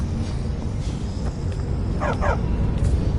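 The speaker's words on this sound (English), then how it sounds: "Stupid dog." A dog in the Skyrim video game gives a quick pair of short, close barks partway through, set against a steady, noisy game ambience.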